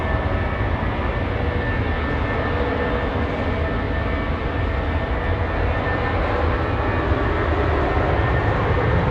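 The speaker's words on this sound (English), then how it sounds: "we've got the Jetstar A320 now just rolling at 16 right" A Jetstar Airbus A320 jet rolls for takeoff on runway 16 right at Sydney Airport, a steady, broad engine roar that stays loud and unchanging throughout, with no break and no voices.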